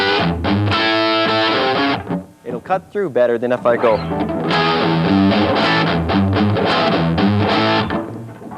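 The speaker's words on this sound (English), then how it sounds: "let me show you what a difference I can make with the distortion on" Electric guitar played through heavy distortion, sustained chords and a bluesy bend run ringing loud and close, with someone briefly speaking in the middle between phrases.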